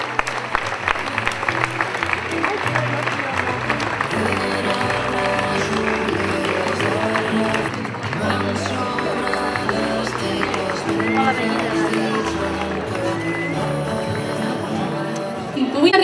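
Loud, sustained crowd applause fills the hall at the Pubillatge Ripoll 2015 ceremony, steady and dense for the whole stretch over a layer of music.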